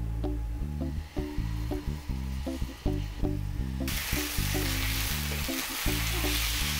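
Steak fillet frying in olive oil in a frying pan, a steady loud sizzle with brief scraping or turning sounds, the hiss growing brighter and denser partway through.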